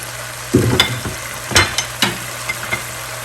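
Ground black pepper, white pepper and coriander frying in a pan for white korma, an even sizzle with several sharp spoon scrapes and stirs, close and without talk.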